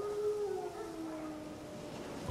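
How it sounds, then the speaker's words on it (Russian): Wild dogs in The Witcher 3 howl in long, wavering tones, faint and distant over a quiet background, with no talking. "Дикие собаки."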